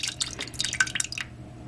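Home-canned mixed berry pie filling pours from a glass jar in a quick run of wet, sticky splats and drips, close and fairly quiet, stopping after about a second.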